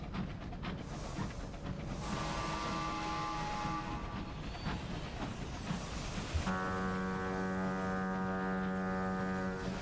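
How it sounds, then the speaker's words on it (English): A ship horn honks in the video game Sunless Skies, a long, loud, steady tonal blast that holds through the end over a rumbling wind-like background. "Yeah, I can honk too."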